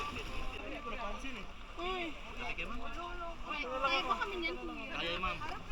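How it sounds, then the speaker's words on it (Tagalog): A paddle-only pumpboat, with its engine banned near the whale sharks, glides through the water at Oslob, Cebu. Soft, steady water wash runs under continuous close talking. "Pamboat siya, pero sagwan lang ang gamit dahil bawal ang makina"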